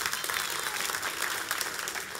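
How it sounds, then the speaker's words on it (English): Brief burst of clapping from a church congregation during a sermon, a short, fairly even patter of many hands at moderate loudness. "Yeah, we can clap for that."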